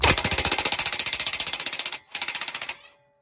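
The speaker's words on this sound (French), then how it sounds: "je vais juste débloquer avec la clé à choc" An impact wrench hammers in rapid bursts to loosen a bolt on a VW Polo front shock absorber: one long run of sharp, close, loud blows, a brief pause, then a shorter burst before it stops.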